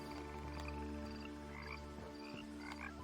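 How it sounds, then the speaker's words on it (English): Frogs croak continuously in the video game What Remains of Edith Finch, layered deep throaty calls overlapping in a steady chorus with occasional sharper chirps, no voices over them. "Lots of frogs around."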